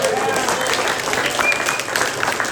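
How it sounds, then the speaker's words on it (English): Audience applause closing a California GOP gubernatorial primary debate, a steady dense wash of clapping from a crowd, fairly loud, with some talking mixed in over it. "Give a big round of applause"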